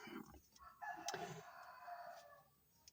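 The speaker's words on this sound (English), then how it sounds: "No matter where you are, even if you're in the city, you will still hear cockerels." A cockerel crows once in the Philippines, quiet and somewhat distant, its call rising and then trailing off.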